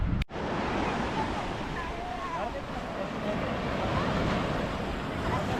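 Sea waves at a beach in Antalya, a steady close wash of surf with wind buffeting the microphone, continuous and fairly loud after a brief sharp knock at the start.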